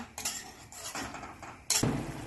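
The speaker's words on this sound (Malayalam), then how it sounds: "ഇത് വീണ്ടും ഇളക്കി കൊടുത്ത് തിളപ്പിക്കാം" Tamarind water sambal being stirred in a pot for nasi lemak, with a utensil scraping and clinking against the metal in short bursts, ending in a louder clatter.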